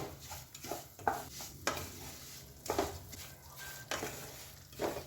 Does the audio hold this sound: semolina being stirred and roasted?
yes